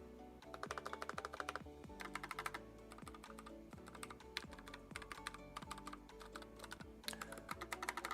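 Quick steady typing on a mechanical keyboard with brown switches, a dense run of soft clicky keystrokes at close range with occasional heavier thocks, fairly quiet overall.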